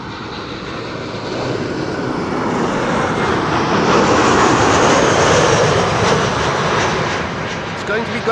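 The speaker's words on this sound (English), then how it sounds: "This was Transavia flight 5672 returning from Ibiza" A Transavia airliner on landing approach at Schiphol, returning from Ibiza, passes as a broad roaring engine rush that swells toward the middle and slowly fades, heard outdoors from a distance.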